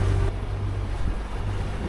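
A sailboat motoring under its engine on the open sea between Sicily and Greece, with a steady low engine drone beneath constant wind and water noise, close and continuous throughout.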